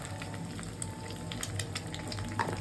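An egg fries in a pan while fried Maggi noodles are prepared, giving a soft, steady crackle and sizzle with small sputtering pops scattered throughout, faint and without talk.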